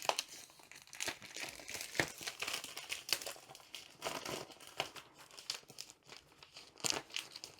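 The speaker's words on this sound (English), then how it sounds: "It's actually quite thick, it's not thin cellophane, so hopefully it comes off easily." Thick cellophane wrap crinkles and tears as it is peeled off a large box, with steady close crackling and rustling bursts and no talking.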